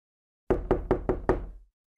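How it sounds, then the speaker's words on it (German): Someone knocks on a door: five firm, evenly spaced raps, loud and close, followed by silence. "Somebody knocks on the door."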